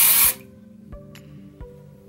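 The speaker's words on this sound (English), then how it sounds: "and then we'll spray the root" A short, loud hiss of dry shampoo aerosol sprayed onto hair roots, bursting at the start and cutting off quickly, followed by quiet with a couple of soft taps.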